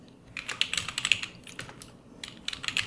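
Keys clatter on a computer keyboard in quick bursts of close, crisp clicks, pausing briefly in the middle before picking up again, with no voices.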